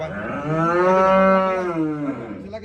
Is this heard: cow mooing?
yes